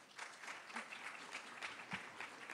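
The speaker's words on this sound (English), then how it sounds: "Round of applause for Jennifer." An audience at a Hispanic Heritage Month celebration gives a round of applause, an even wash of many clapping hands that is soft and slightly distant and lasts a few seconds.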